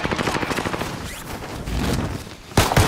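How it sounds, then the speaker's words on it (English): Sustained gunfire in the video game Call of Duty Warzone: a loud, rapid machine-gun stream of closely spaced shots, briefly easing before another sharp burst cuts in. "Sustaining fire here"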